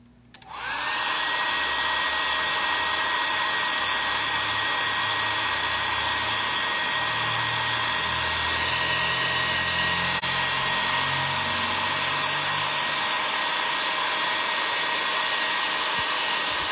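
A hair dryer dries a hand-painted flower on furniture finished with a Provençal patina. It switches on almost at once and keeps up a loud, steady, close whirring roar to the end, with no talking.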